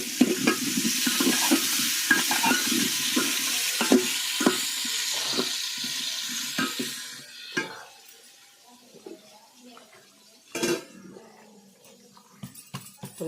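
Potatoes fry and sizzle in hot oil as a utensil stirs them in a pan, a steady close sizzle under repeated scraping strokes that thins out in the second half, leaving sparser stirring clatter.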